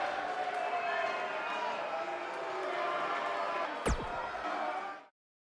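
A big arena crowd in the WWE 2K19 wrestling game roars and cheers in a loud, steady swell that holds throughout, then cuts off abruptly near the end after a brief sharp whoosh.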